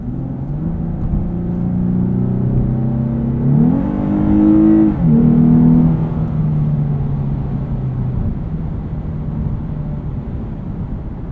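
A Lexus IS 350 F Sport with a 3.5 liter V6 and 6-speed automatic hums steadily at a track, its engine note climbing as the gearbox downshifts, peaking briefly, then settling back into a smooth drone.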